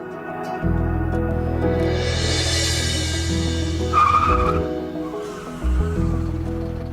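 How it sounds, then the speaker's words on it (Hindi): A car skids hard and screeches to a sudden stop, a loud sustained tire squeal over engine noise that lasts several seconds, with a brief second burst of screeching near the end. "देख के चलाओ। माफ करना शार्दुल भाई, वो लड़की अचानक ही सामने आ गई"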